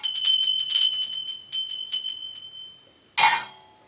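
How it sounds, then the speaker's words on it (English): Royal palace bells ring in a few bright, tinkling strikes that decay quickly, followed after a short pause by one louder clanging strike; no talking over them. "The royal bells rang"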